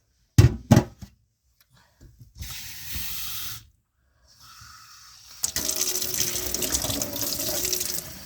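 Water runs from a tap in steady hissing streams, starting and stopping, with a few clunks at the start and a stronger flow at the end.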